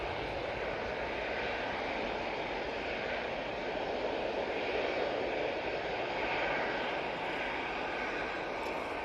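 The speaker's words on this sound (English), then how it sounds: "737-800 off to Faro" At Manchester Airport, a Ryanair Boeing 737-800 jet departs for Faro with a continuous engine roar that swells slightly midway and stays loud and steady throughout.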